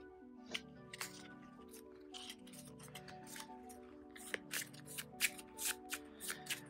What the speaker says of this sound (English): Shuffle these into the counter deck, along with the discard pile.